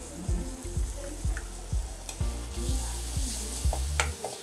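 Spices with salt, turmeric and pepper powder frying in a pan for Kerala-style rasam, a close, continuous sizzle with a regular series of scraping stir strokes and a few light clinks.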